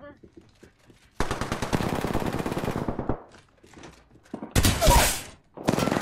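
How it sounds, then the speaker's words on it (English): Rapid automatic gunfire in an Apex Legends ranked match, a sustained loud burst followed by a second sharp volley and a short final burst, with game sounds around it. "They're shooting at me."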